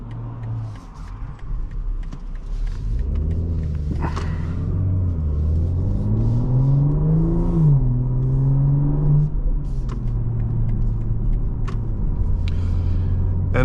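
Engine of a 2024 BMW M340i xDrive heard from inside while driving, a steady low rumble whose pitch rises and falls smoothly with light acceleration, close and continuous with faint road noise.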